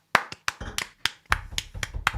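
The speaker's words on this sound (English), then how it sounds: "Lady Squiff, a round of applause." Sparse, separate hand claps from a small audience at an awards event, about a dozen distinct sharp slaps spaced irregularly, close and fairly crisp rather than a full roar of applause.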